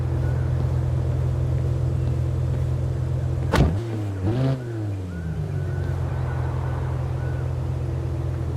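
An Audi S5 engine in the mobile game Car Parking Multiplayer 2 idles with a steady low hum, then briefly revs up and settles back down to a smooth drone, with no talking.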